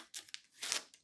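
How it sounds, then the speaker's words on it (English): Tape peeled off a GE French door refrigerator door in a few quick crinkly tearing bursts, quiet and close. "Then, remove the tape."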